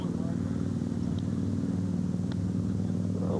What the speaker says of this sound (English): If you wonder what all the noise is in the background, it's all the motorcycles.